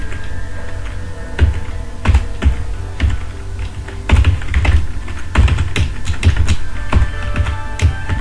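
Fingers type Nepali text on a computer keyboard, producing close, crisp key taps in quick irregular bursts with occasional heavier strokes, continuing throughout without talk.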